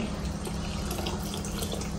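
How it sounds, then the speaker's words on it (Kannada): Water runs steadily into a container, a constant close-up gurgling pour with no pauses. "ಇವಾಗ ನೀರು ಹಾಕೊಳ್ತೀನಿ ನಾನು"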